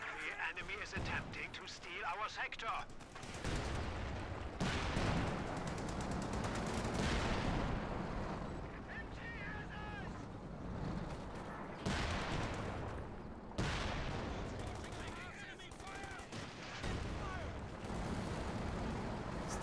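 Gunfire and machine-gun bursts from a WWII strategy video game, including an MG42, crackle in repeated volleys and blasts over nearly twenty seconds, mixed under continuous commentary from a voice talking throughout.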